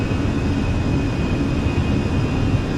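Simulated Airbus A320 engines (Fenix A320 in Microsoft Flight Simulator) at climb power just after departing Boston: a steady, loud, continuous roar with a deep low rumble and a thin high whine running underneath, with no voices.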